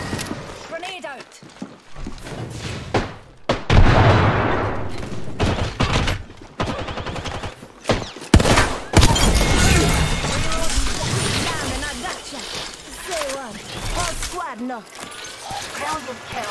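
Rapid bursts of gunfire, a crash-like blast and mechanical reload clicks from a battle-royale shooter match playing Lifeline, loud and dense, with a voice speaking throughout.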